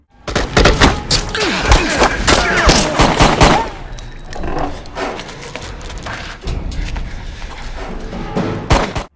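A dense volley of rapid gunshots from above in a film fires all at once, loud and close, then fades into a rumbling, scattered tail.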